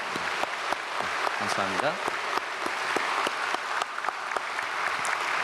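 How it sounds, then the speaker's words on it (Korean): Congregation applause at an Easter church service, steady dense clapping from a large crowd lasting throughout, with a speaker's voice briefly over it. "우리 구청과 우리 동네를 위해서도 여러분 많이 격려해 주시고 기도해 주시면 감사하겠습니다. 박수하겠습니다."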